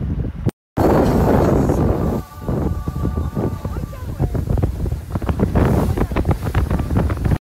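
A small boat motoring over clear water, with steady wind rumble buffeting the microphone throughout and a brief dropout near the start; voices talk over the engine and wind.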